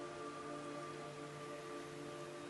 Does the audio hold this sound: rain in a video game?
yes